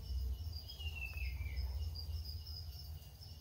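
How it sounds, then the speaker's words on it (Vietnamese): Crickets in a rearing cage with coconut-fibre substrate chirp in a steady, faint, continuous trill with no voices over it. "những dế nó bò ra đây"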